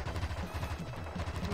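Rapid gunfire rattles through the Wild Guns video game, a dense near string of repeated shots and pops with a steady rhythmic punch over the short stretch.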